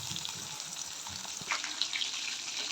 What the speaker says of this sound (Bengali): তো দেখো ডিমগুলো কিন্তু এক পিঠ ভাজা হয়ে গেছে